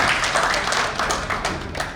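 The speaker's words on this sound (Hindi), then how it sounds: "एक बार जोरदार तालियों से आप लोग डॉक्टर आईसी गिरी का स्वागत करें।" A crowd applauds steadily, a dense wash of clapping that holds throughout.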